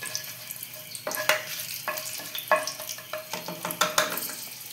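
Whole cardamom pods, cinnamon, cloves and black peppercorns frying briefly in a pan for pulao, a soft constant sizzle with repeated sharp clicks and scrapes of a spoon stirring the spices.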